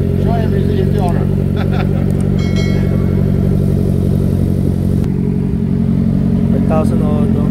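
A big-bike motorcycle engine idles steadily and close by while its exhaust is checked, with brief blips of revving. Someone talks over it throughout.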